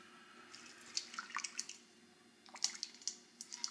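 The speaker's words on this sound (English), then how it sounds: "So I'll just get a ladle out and start scooping." Cream cheese curds and whey are ladled into cheesecloth, giving soft, quiet drips, splashes and wet squishes in two short bursts.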